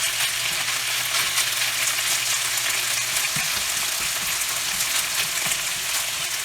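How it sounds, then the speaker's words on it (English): Beef cooking over high heat in a pan, a loud continuous sizzle with a few soft stirring clatters partway through, no voices. "sort of frying the meat"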